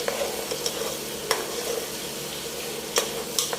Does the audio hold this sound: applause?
no